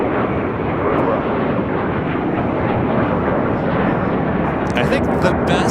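A jet airplane roars steadily close by at LAX airport, broad loud engine rumble running throughout, with brief sharp crackles near the end.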